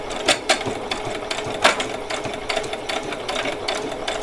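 A sewing machine stitches a fold in place on an old dress being upcycled, giving several short, close mechanical bursts of stitching scattered through a quiet room.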